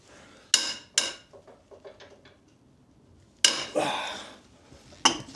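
Breaker bar cracking loose a stubborn brake caliper bolt on a junkyard Honda Civic: two sharp metallic bangs, a run of lighter clinks and ratcheting taps, then a louder grinding crack and a final sharp snap, close and distinct.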